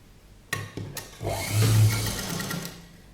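A sewing machine stitches close along the edge of a padded blouse with piping, giving a short mechanical burst of whirring and knocking in a brief close-up run.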